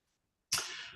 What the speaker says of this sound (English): forgive me for coughing in your ear